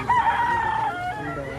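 A bullstag rooster at a fowl market in Lipa, Batangas crows once, close and clear, a single drawn-out call trailing off over faint background murmur.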